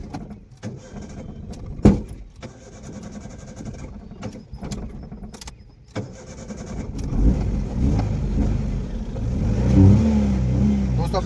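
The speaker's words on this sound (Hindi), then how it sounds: "ये अपनी गाड़ी स्टार्ट कर रहे हैं।" A car being started during a driving lesson: scattered clicks and key jangles first, then the engine turns over and settles into a low, rising idle hum up close.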